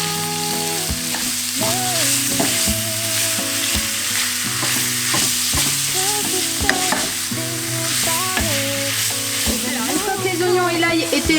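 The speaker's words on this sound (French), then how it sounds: "Alors j'ajoute l'oignon, je vais le faire cuire 2-3 minutes jusqu'à ce qu'il commence un petit peu à dorer." Onion sizzles and crackles in a hot pan, with a steady frying hiss broken by repeated scrapes and clinks of a stirring utensil throughout.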